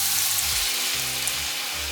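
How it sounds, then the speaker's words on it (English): Shrimp tempura deep frying in oil at about 190 degrees, a steady, dense, bright sizzle with crackling bubbles running continuously and close, no voices. "I deep fry the shrimp over higher temperature than vegetable, about 190 degrees"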